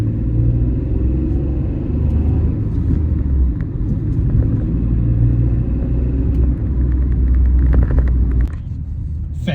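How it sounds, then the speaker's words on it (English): A Citroen C1 city car driving along, with a steady low engine and road rumble from inside the cabin that drops away near the end. "So seems to drive better already,"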